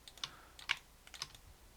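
Computer keyboard keys pressed while working in Blender: three or four soft, separate clicks spaced about half a second apart, quiet and close, with no talking.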